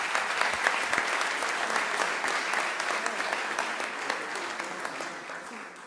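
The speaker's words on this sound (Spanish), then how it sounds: "con un gran aplauso despedimos la mesa" Sustained, dense applause from a symposium audience sends off a panel on labor procedural reform, steady throughout and easing slightly toward the close.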